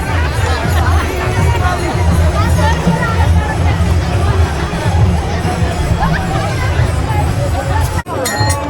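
A dense crowd of pilgrims gathered for darshan at the Mauli palkhi departure ceremony in Alandi, a loud, continuous babble of many voices close around with occasional shouts and a brief dip near the end.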